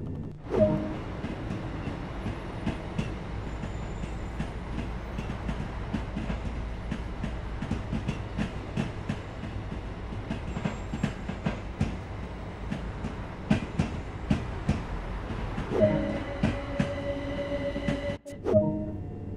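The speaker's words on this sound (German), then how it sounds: "8 Wagen gebildeter Gatwick Express Class 387 Elektrotriebzug" A Gatwick Express Class 387 eight-car electric multiple unit runs in the Train Sim World 2 video game, with a continuous rolling rumble and steady clickety-clack of wheels on rail joints, heard from on board at moderate volume.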